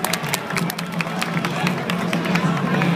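Applause from an audience at a university anniversary celebration, steady dense clapping mixed with crowd murmur and a sustained low hum throughout.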